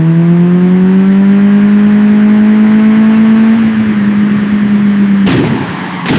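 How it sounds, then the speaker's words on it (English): A car speeding down a road and crashing into a barrier in the middle of the road, with a steady rising engine drone that ends in an abrupt loud impact near the end. "the car moving at high speed crashes into a barrier in the middle of the road and gets destroyed"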